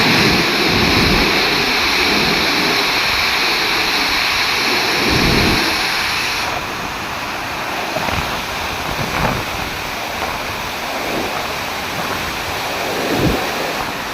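The Kaveri river in flood rushes past in a dense, steady roar of moving water, loud and unbroken, with wind buffeting the microphone. The roar eases slightly partway through but never stops.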